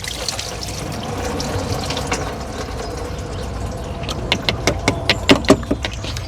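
Fluid trickling and splashing from a BMW X5 into a bucket, a steady close liquid hiss with scattered drips and small clanks growing busier toward the end.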